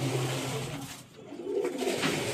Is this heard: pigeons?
yes